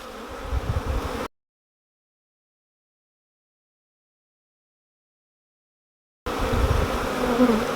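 Honeybees buzzing around a nuc being moved into a beehive, using a screwdriver in place of a hive tool; a dense, steady close-up hum is heard in two stretches separated by a long gap of silence.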